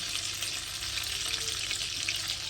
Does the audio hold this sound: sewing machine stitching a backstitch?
no